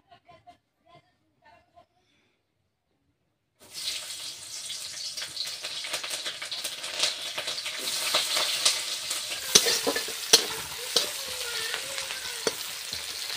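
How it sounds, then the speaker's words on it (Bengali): Onions and green chilies hit a hot pan after a quiet start, then sizzle loudly and steadily while being stirred. Scrapes and clinks occasionally punctuate the sizzle, and a voice talks faintly in the background. "সেই জন্য কিছু কাঁচা লঙ্কা দিয়ে দেবো আর পেঁয়াজ দিয়ে দেবো"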